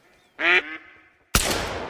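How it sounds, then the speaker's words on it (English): Ducks quacking loudly in the Call of the Wild hunting video game, one sharp nasal quack up close followed by a sudden burst of loud flapping or splashing noise. "Oh, the ducks are so loud."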